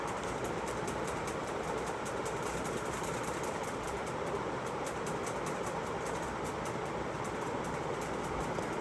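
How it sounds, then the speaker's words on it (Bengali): Cut potatoes fry in hot oil in a wok, giving a dense, continuous crackling sizzle that stays loud and even throughout, close up and with no voices. "এই গরম তেলে এবার আমি কেটে রাখা আলুগুলো ছেড়ে দিচ্ছি। আলুগুলোকে আমি প্রথমে খুব ভালোভাবে ভেজে নেব।"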